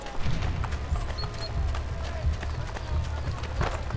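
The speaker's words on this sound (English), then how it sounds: "I'm gonna just steal a horse." A horse gallops in Assassin's Creed Brotherhood, its hooves drumming in a steady, rapid rhythm. Low game ambience and faint crowd noise sit underneath.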